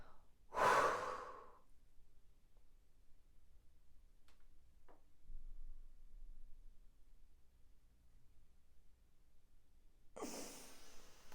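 Two forceful, breathy exhalations in Agni Sara breathwork, one at the start and one near the end, separated by a long stretch of near silence with faint ticks.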